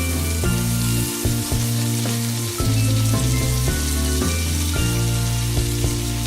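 Steady, loud frying sizzle from a toy kitchen playset stove, a continuous crackling hiss layered over a looping tonal sound effect, with no talking.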